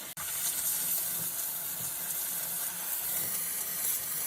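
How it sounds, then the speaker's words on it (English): A steam cleaner blasts a steady, loud hiss of steam behind a toilet seat, starting abruptly and running unbroken for several seconds before stopping. "So a good short blast of steam there works wonders."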